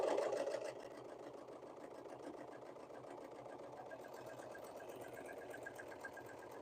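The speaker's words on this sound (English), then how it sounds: "And then it will cut off the edge of the fabric as it sews." A sewing machine that trims the edge of leggings fabric as it stitches runs in a steady, fast, continuous whir, strongest at the start and then settling into an even mechanical drone.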